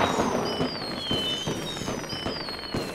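Meteors striking cities in WorldBox: descending whistling tones over a dense crackle, punctuated by repeated booming impacts that sound close and loud, with no talking.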